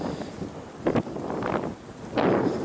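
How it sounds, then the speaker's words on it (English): Strong wind buffets the microphone in loud gusts, swelling and easing over a constant roar. "A very windy day, so you're going to hear a lot of wind"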